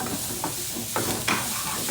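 Chopped onion and garlic fry in hot oil with a steady close sizzle, broken by a few soft scrapes of a stirring utensil across the pan.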